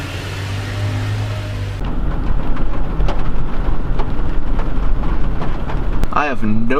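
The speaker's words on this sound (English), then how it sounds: "there's just rain absolutely everywhere" Heavy rain pounds on a truck with a dense, loud hiss of drops that intensifies partway through, while someone talks over it.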